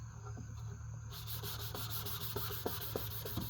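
Wet sanding a yellowed, oxidized headlight lens by hand with water and 400-grit sandpaper, heard up close as steady, rhythmic rubbing strokes with a few sharper scrapes near the end.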